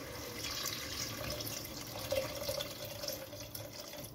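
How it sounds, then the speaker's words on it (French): Water pours steadily into a cooking pot for mushroom soup, a continuous soft splashing and gurgle heard close up and fairly quiet, with no voices. "On va mettre de l'eau à niveau."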